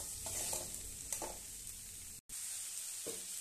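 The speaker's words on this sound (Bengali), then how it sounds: "এই দেখো এটি এবারে লেড়ে চেড়ে শুকনো শুকনো করে আরো ভাজবো" Ivy gourd and khasla frying in a pan give a steady close sizzle, broken by soft scraping stirs and one brief cut to silence.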